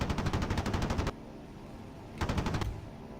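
Two bursts of rapid automatic aircraft cannon fire in a video game, loud and rhythmic, the first lasting about a second, then a pause before a second shorter burst over a steady engine drone.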